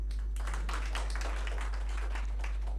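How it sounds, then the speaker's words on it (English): An audience at a creativity and innovation talk in Ahmedabad claps for a participant, a quick run of sharp, uneven hand claps over a constant low hum, moderately close and without speech. "please go ahead, clap for him."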